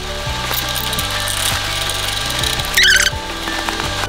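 Fitting being tightened during office chair assembly, with rapid ratcheting clicks and squeaky metallic turning in repeated short strokes, close up with a faint high squeal.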